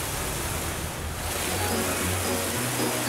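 Cartoon water splashes and rushes in a steady, loud, broadband wash that swells briefly near the middle and keeps going for about three seconds with no talking.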